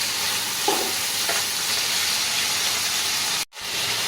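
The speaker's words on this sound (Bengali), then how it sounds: "চিংড়ি মাছ বেশি ভাজতে হয় না হালকা করে ভাজলেই হয়" Prawns fry lightly in a pan, making a steady close sizzle that hisses continuously, with a faint stir partway through and a brief drop-out just before the end.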